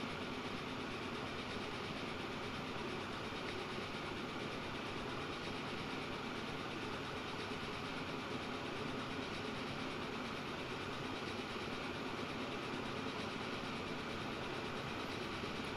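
Flat car train running in the Transport Fever 2 video game, a steady continuous rail rumble and rolling noise with no breaks throughout.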